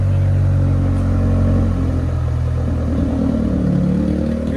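A 1999 Honda Civic with headers and a fully straight pipe idles loud and rough, then its engine note climbs as it revs, a close, heavy droning rumble with no talk.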